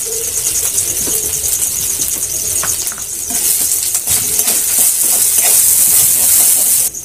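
Ginger paste with a little turmeric frying in hot oil in a pan, a loud continuous sizzle and hiss with occasional stirring scrapes and clinks, no voices.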